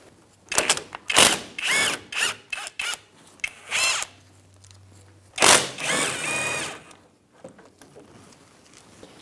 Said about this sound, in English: Using a 13mm socket, we're going to remove our caliper bolts.